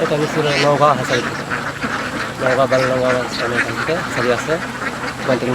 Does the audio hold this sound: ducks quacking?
yes